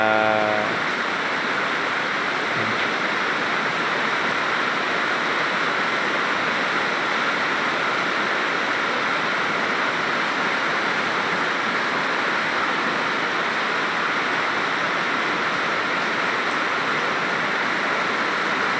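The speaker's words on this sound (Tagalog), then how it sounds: "walang humpay pa rin yung naranasang malakas na pagulan" Heavy, unrelenting rain pours down in a steady, dense hiss that stays loud and unchanging throughout, with no voices over it.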